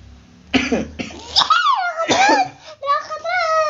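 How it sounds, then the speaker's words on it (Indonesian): A child coughs in a couple of harsh bursts, close and loud, mixed with the child's chatter and a faint giggle. "Batuk kamu, makan es mulu."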